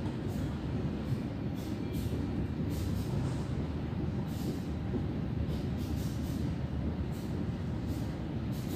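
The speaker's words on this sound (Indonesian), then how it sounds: "Nah, ini masuk stasiun Jember." A passenger train rolls into Jember station with a steady, loud rumble of wheels and carriages, punctuated by faint repeated hissing or squealing bursts, and no voices.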